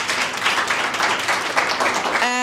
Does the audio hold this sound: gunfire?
no